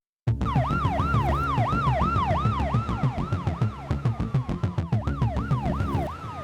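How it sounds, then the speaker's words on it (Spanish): An emergency siren wails through a lazy Saturday afternoon, its rising and falling sweeps steady and fairly strong, then switching to quicker, choppier yelps toward the end. "Primero fue el sonido, la sirena, todavía lejos, cortando de golpe toda esa tarde perezosa de sábado."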